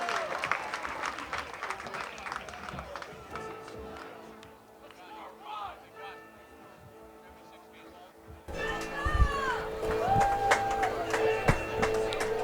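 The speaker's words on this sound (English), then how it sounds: "Let's give another big round of applause to the Red Sox Foundation for their play ball event tonight." A ballpark crowd at a rainy Cardines Field claps and cheers before a Newport Gulls versus Keene Swamp Bats summer-league game. The applause rises and falls and then swells louder near the end, with a PA voice and music under it.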